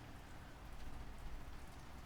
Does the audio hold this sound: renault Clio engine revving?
no